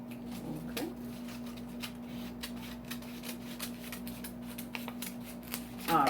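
Scissors cut a U shape out of paper for a St. Patrick's Day leprechaun mask, giving a quiet series of crisp snips and rustles over a faint steady hum, with a louder rustle at the end.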